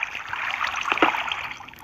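Water gushes steadily from a broken block in a Bedrock hardcore game, a bright rushing flow with small splashy bubbles, close and constant throughout.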